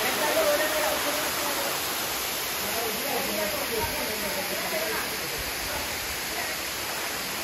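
The Shain Gong waterfall roars as a steady, dense rush of falling water, close and constant, with people talking faintly over it.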